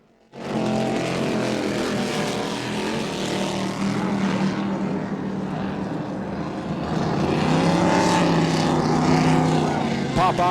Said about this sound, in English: it's going to be a drag race between the piston power and the turbine boats to that first turn